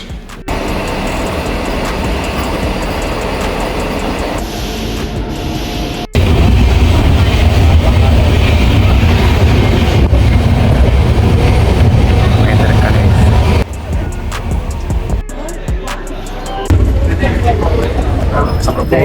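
A train at a railway station, with a loud rumble that swells midway as rolling stock passes close by, steady heavy noise throughout, and people talking underneath.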